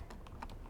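Quick burst of about four soft keystrokes as code is typed on a computer keyboard, close and quiet.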